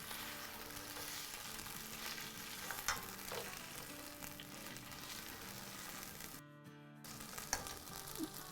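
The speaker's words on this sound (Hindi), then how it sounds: "अब मैं आपके सामने जिंजर गार्लिक और हरी मिर्चों में डाल के भून रही हूँ" Pressure-cooked mutton fries in a pan with ginger, garlic and green chillies for Sindhi biryani, producing a continuous low sizzle with occasional stirring scrapes, quiet and steady, briefly dipping before resuming.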